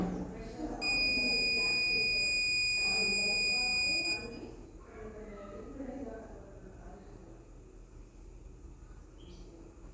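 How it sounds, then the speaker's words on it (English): A digital multimeter in continuity mode gives a steady high electronic buzz for about three seconds while its probes test a fuse, sounding over background noise and then cutting off abruptly. "If the buzzer occurs, the fuse condition was good."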